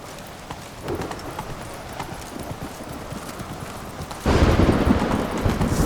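A horse galloping in The Witcher 3 video game, with rapid, dense hoofbeats running throughout and swelling much louder and closer in the final seconds.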